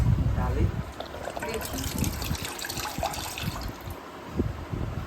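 Water from a freshly opened coconut trickles and dribbles steadily, close up, with talk and other voices over it.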